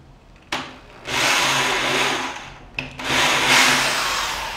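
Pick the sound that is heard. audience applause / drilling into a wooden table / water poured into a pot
drilling into a wooden table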